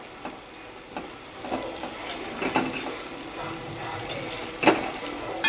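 Kurdai vegetable dish being sautéed in a pan, a soft continuous sizzle under intermittent spatula scrapes and light clatter, fairly close, with no one talking.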